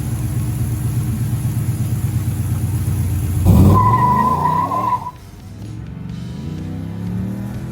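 A remanufactured Chevelle idles with a loud, lumpy engine rumble, then bursts into a hard revving takeoff with squealing tires before the sound drops away to a quieter distant drone.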